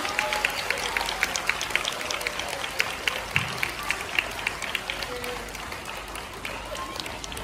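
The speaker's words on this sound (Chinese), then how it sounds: "我们大家给他再来一个热烈的鼓掌声" An audience applauds a children's performance at a kindergarten anniversary event, with steady dense clapping throughout, loud and sustained, with some voices mixed in.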